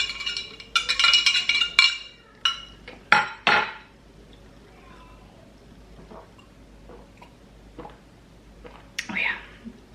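A metal spoon clinks against the inside of a cup while powder is stirred into a drink, giving a run of sharp, fairly close clinks and taps that come in bursts, then thin out to sparse soft knocks with a final clink.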